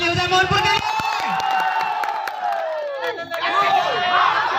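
Spectators at an outdoor village volleyball tournament cheer and clap in a loud, continuous crowd roar, with an announcer's amplified voice running over it throughout.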